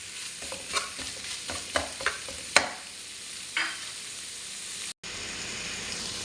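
Ground beef sautéing with garlic and vegetables in a pan, a steady close sizzle broken by several stirring scrapes and clinks in the first few seconds, then a brief cutout near the end, no voices.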